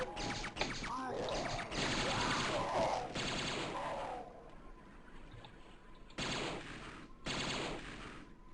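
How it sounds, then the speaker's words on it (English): Laser weapon firing in Quake: Scourge of Armagon, bursts of rapid crackling shots in a military complex, a long loud volley followed by two shorter bursts after a quiet gap. "the laser shot by this weapon ricochet off the wall"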